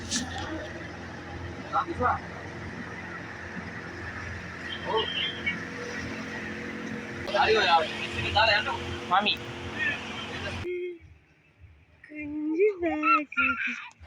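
A boat's engine drones steadily on a ride out toward a sea fort, a low continuous hum with voices chatting over it, until the engine noise cuts out abruptly near the end and only talk remains.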